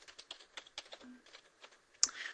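Computer keyboard typing a network command, a quick run of light clicking keystrokes, quiet and close, ending with a slightly sharper key press.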